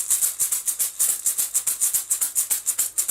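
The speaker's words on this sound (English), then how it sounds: "cool sound effect that you might hear a lot are the maracas." A pair of maracas shaken in a steady, quick rhythm, each stroke a crisp, bright rattle of beads, close and alone with no voices.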